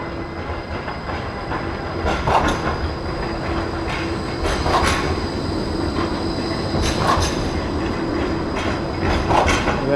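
A tram rolling past on rails close by, a continuous rumble with rhythmic wheel clicks at regular intervals and a thin squealing tone over it, no talk.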